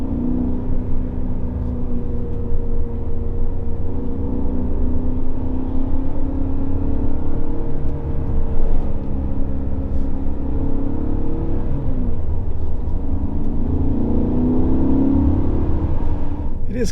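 A BMW E39 M5 V8 engine in sport mode drones and rises under throttle from inside the car, a loud, continuous low rumble swelling through several revving pulls.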